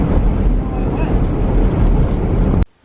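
Heavy wind rushing past a vehicle on a rough unpaved road in Namibia, a loud steady roar with low rumbling buffeting that cuts off abruptly near the end.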